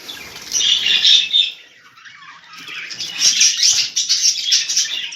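Bird chirps and chattering calls, fairly close, with fluttering sounds in bursts; a quieter lull in the middle before the calls pick up again.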